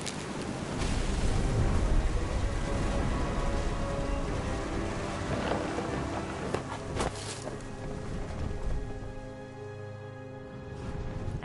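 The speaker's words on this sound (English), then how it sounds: "The thunder sounded much too close and full of angry power" Thunderstorm in the video game What Remains of Edith Finch: dense, steady roar of heavy rain with deep rumbling thunder throughout, loud and close, with a brief sharp crack in the middle and no voices.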